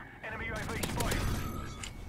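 A rapid burst of gunfire in Call of Duty: Modern Warfare 3 crackles over game sounds while someone talks.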